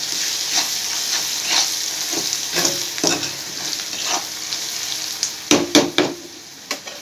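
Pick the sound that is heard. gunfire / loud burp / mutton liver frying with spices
mutton liver frying with spices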